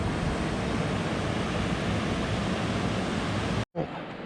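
River flowing near Wolf Creek falls in Sandstone, Minnesota, a steady broad rushing wash of water close by, briefly cut out near the end before resuming more softly.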